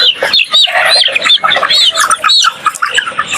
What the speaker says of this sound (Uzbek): Tovuq bor u yoqda.